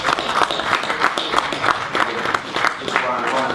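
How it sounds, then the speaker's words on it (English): Applause for boxer Anthony Joshua at a post-fight press conference, a steady crackle of clapping from the room with voices audible through it. "Anthony Joshua here deserves a round of applause after that."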